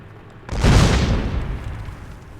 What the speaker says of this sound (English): Instant explosion. Instantaneous.